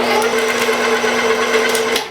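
Electric meat grinder running with meat and garlic cloves fed through it, a steady whining motor hum with faint clicking texture, close and continuous before cutting off at the end.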